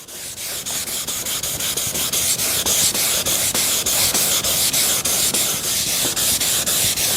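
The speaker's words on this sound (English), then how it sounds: "I went down to an old piece of 220, and this is the simple one. Is just sand it." Hand sanding an old furniture finish with 220 grit sandpaper, a close, loud, rhythmic rasping of quick back-and-forth strokes repeating evenly throughout.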